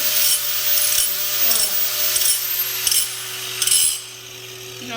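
Steady abrasive rasping as burrs are ground off a blade edge while grinding a bevel, close and continuous with a motor hum beneath, easing off near the end.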